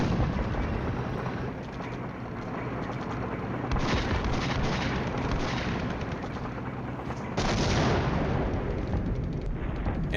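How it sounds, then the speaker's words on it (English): Enemy artillery fire striking a tank column in the Flashpoint Campaigns: Southern Storm war game, a dense continuous roar of blasts and rumbling impacts with a sharper burst of explosions near the end, loud and sustained with no talking. "And that is some enemy artillery fire on our tank column, guys."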